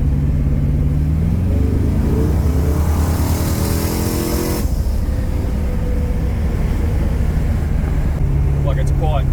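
A big-block Chevy V8 with a turbo in a VH Commodore drives along, its loud, steady engine drone filling the cabin, with people talking over it.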